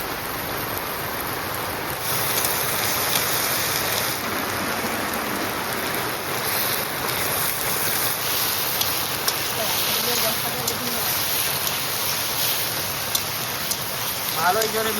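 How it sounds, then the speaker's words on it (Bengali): Heavy rain pours outside in a steady, dense wash of drumming droplets on surfaces, loud and unbroken throughout, with occasional sharper drips and a faint kitchen noise underneath. "ভালোই জোরে বৃষ্টি পড়া শুরু করেছে কিন্তু বন্ধুরা"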